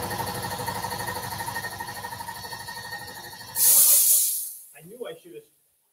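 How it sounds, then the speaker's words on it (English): Air compressor running with a steady mechanical hum that ends in a loud hiss of released air, then falls quiet as a voice speaks briefly. "I knew I should have shut that compressor before. I was like, it should be okay. And then it came on"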